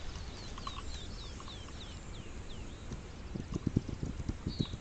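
Horse hooves clip-clop in the video game This Land Is My Land, a quick run of close, distinct hoofbeats arriving near the end, over a quiet outdoor bed with birds chirping.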